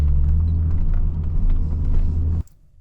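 A manual-transmission car engine holds a steady, loud rumble near 2,000 RPM as the clutch is let out, then cuts off abruptly to near silence.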